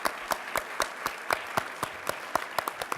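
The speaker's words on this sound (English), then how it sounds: "So big round of applause for them." Applause in the hall at a conference closing plenary, heard as a fairly quiet series of distinct, evenly spaced claps, sparse enough to suggest only a few people clapping.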